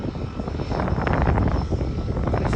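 A de Havilland Otter floatplane flies over Victoria Harbour, its propeller engine droning loud and close in a steady roar that swells slightly, then holds.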